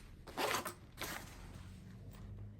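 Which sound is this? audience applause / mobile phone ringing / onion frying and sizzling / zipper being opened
zipper being opened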